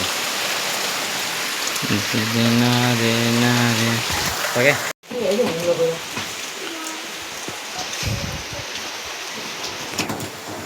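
Heavy rain pours down in a steady, loud hiss, broken by a brief dropout, with a voice-like tonal sound partway through.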